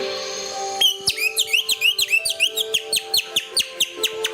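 Rapid, rhythmic chirping whistles mimic birdsong, made by a stretched cellophane bag, about a dozen sharp tweets in quick succession over a faint steady tone.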